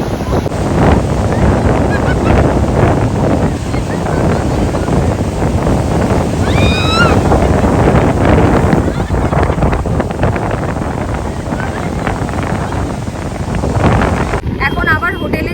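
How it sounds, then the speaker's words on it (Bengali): Sea waves surge and roar onto the beach at Puri, a continuous loud wash of surf mixed with wind buffeting the microphone, with faint voices in the background. "পুরীর সমুদ্রের কাছে তো এখানে সমুদ্র কিছুই নয়, তাই সমুদ্রের গর্জনটা শুনতে ভীষণ ভালো লাগছে।"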